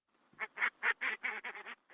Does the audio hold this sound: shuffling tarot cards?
no